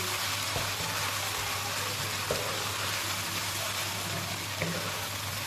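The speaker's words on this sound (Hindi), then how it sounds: "अदरक लहसुन को भी अच्छे से प्याज के साथ जो है ना फ्राई कर लेंगे।" Ginger-garlic paste frying with onion in a pan for a chicken and ridge gourd curry gives a steady, close sizzle throughout, with a few faint clicks and a low hum underneath.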